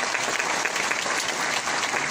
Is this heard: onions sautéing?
no